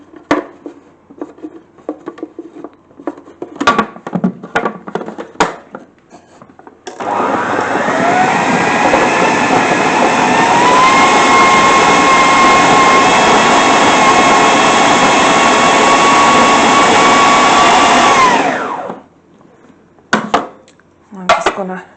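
An electric mixer whisks apricots for jam, starting abruptly after some clinks of kitchenware and running in a steady, loud whine for about twelve seconds before cutting off, followed by more scattered clatter.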